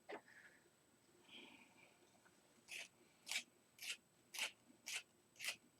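A dull pencil lead is sharpened in a quiet room, first a few soft scrapes, then six crisp rasping twists in a steady rhythm, close and faint.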